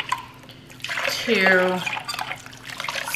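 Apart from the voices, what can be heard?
water being poured into a pot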